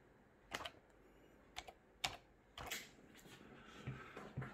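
A computer keyboard is typed on, giving a handful of soft, scattered keystrokes spaced irregularly over a quiet background.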